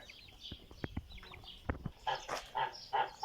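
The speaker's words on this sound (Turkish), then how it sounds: "Bunlar da yetişkin kazlar." Geese honk several times in the second half, after scattered clucks and faint bird calls nearby.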